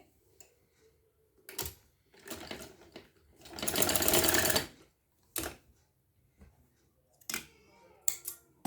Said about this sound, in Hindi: अब इसी को हम इस साइड से सिलाई करेंगे।